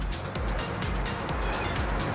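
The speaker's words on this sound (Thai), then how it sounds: "ถ้าเราเร่งเครื่องรอบเครื่องก็จะขึ้น" Car engine revving up while parked, a steady broadband engine roar with periodic low rumbling pulses and no voices.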